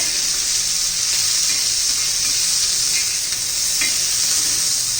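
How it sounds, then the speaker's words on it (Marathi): Coriander and green chillies sauté in a pan for Kolhapuri chilli thecha, giving a loud, steady, close sizzle that runs without a break, with faint stirring scrapes underneath. "चांगली कोथिंबीर मिरची परतून घेऊया."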